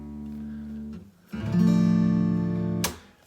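Two plucked low E-string notes on a guitar ringing out one after another, the second, tuned down, noticeably deeper than the first, ending with a sharp click.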